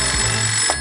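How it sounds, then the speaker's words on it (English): A telephone rings with a steady, loud electronic tone that fills the short moment without pause. "That's the phone."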